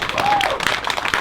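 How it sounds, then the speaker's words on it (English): A short burst of audience applause at a Day of Remembrance community session in San Jose, a brief dense patter of clapping hands from the room with a faint voice mixed in. "So, round of applause for Yvonne as well."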